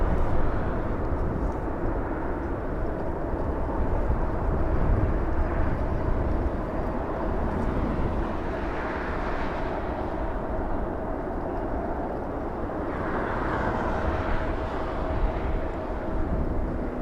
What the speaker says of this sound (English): A380 still taxiing on Lima.